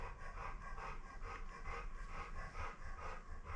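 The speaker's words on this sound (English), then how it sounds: "Please ignore the panting dog." A dog pants steadily and rapidly close by, rhythmic breaths continuing throughout with no talking over them.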